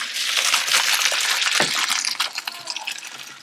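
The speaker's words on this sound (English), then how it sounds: "Noodles are done. We're gonna strain them." Cooked noodles being strained, with water gushing out into a kitchen sink in a steady broad rush that tapers off into splashes and drips near the end.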